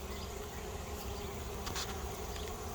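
Honey bees buzz steadily in a bee yard, a continuous, fairly faint hum with a few individual insects passing nearer for a moment.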